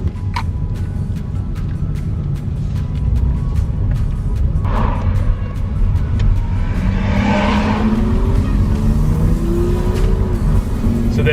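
Cars drive along a road, including a lowered 1998 Toyota Camry on King Springs following another car, with a loud, continuous engine drone, rising revs and passing road noise heard close up.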